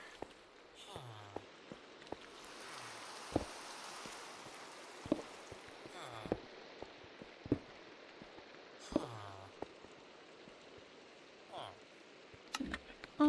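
Rain falls during a Minecraft thunderstorm, a quiet, steady patter and hiss under occasional sharp clicks and brief game noises.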